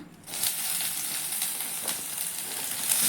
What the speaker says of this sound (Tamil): வெங்காயம் கருவேப்பிலையை போட்டு நல்லா வதக்கிக்கலாம்